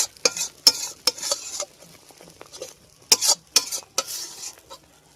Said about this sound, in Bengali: মশলা থেকে তেল ছাড়তে শুরু করেছে, মশলাটা কষানো হয়ে গেছে